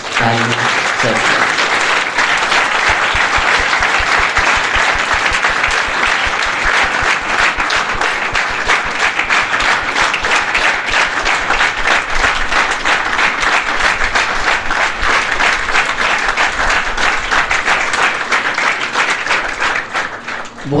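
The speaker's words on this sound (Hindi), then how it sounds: "इसके लिए एक बार जोरदार ताली सर।" A large audience claps loudly and continuously for about twenty seconds, a dense, steady roar of applause that fades briefly at the end.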